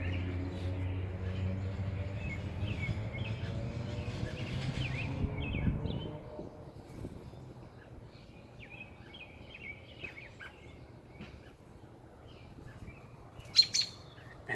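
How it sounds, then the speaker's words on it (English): Robin chicks and their mother chirp around a nest in short, high tweets, louder over a low rumble early on, then sparser and fainter, with one sharp brief call near the end. "right here, if we can see them, is the baby robins"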